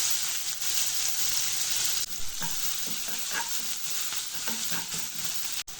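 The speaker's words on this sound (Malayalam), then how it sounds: "ഇനി ഇതാ വറ്റൽമുളക് ഇഞ്ചി വെളുത്തുള്ളി ഞാനൊന്ന് ചതച്ചെടുത്താണ് കേട്ടോ അത് ചേർത്ത് കൊടുക്കാം" Dried chillies with crushed ginger and garlic hit hot oil with a steady, close hiss of sizzling, while a utensil stirs with a few light scraping taps partway through; no voices.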